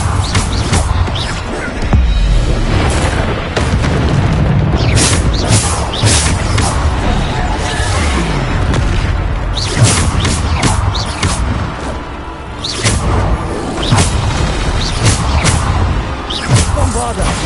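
Bombarda spell explosions in the video game Hogwarts Legacy come as repeated loud booms and crashing impacts in a dense, busy battle mix, with voices shouting over them.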